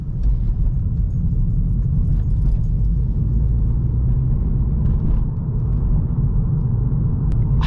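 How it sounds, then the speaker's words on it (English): Volkswagen Scirocco turbo engine heard from inside the car while driving, a steady loud low rumble and road drone with a faint whine, continuous throughout and no talking. "I feel like you can hear the flipping turbo in this car."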